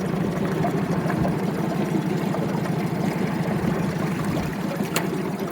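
A Honda BF20D3SH short shaft 4-stroke outboard motor idles in a steady low, even rumble, close and constant throughout with no voices.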